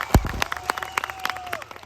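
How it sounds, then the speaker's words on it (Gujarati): Scattered, uneven hand claps from an outdoor crowd at a tribal cultural program in Dedvasan village, Mahuva, with sharp individual claps over a faint steady tone. "બધા માટે એકવાર જોરદાર તાળીઓ થઈ જાય"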